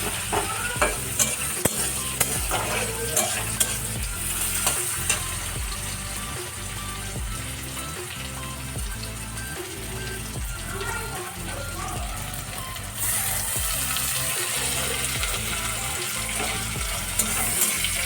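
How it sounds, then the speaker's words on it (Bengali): Onions frying in a pan, a continuous bright sizzle under a steady rhythm of scraping stirs, close and fairly loud throughout, with the hiss swelling briefly near the end. "পেঁয়াজটা একটু ভাজা ভাজা হোক ততক্ষণ, তারপরে আদা রসুনের যে পেস্ট করে রেখেছিলাম সেটাকে দিয়ে দেবো।"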